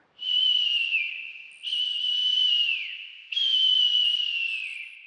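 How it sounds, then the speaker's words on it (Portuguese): A performer whistles softly in three long sustained tones. Each tone starts steady and then slides gently downward, with short pauses between them and no other sound. "foi se sumindo, assobiando baixinho"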